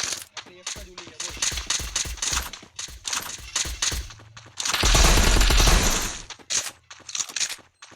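VSS gun firing in a video game, rapid bursts of sharp shots in quick succession with a loud sustained volley mid-way, while people talk over the gameplay.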